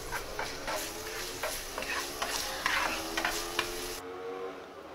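Garlic and onion sautéing in a pan, a faint steady sizzle with light ticking stirs and scrapes, close by with no voices, cutting off near the end.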